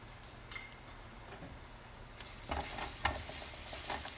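Garlic sautés in hot oil in a pan while carrot pasta in white sauce is being cooked, a faint hiss at first that swells into louder crackling sizzle with light stirring ticks.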